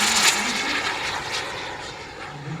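A steady whooshing turbine roar of a model Viper jet passing during an air show display, loud at first and slowly fading as it moves away.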